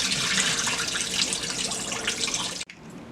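Tap water running steadily into a sink as hands and raw oxtail are rinsed under it, a close continuous splashing rush that cuts off abruptly, leaving faint drips.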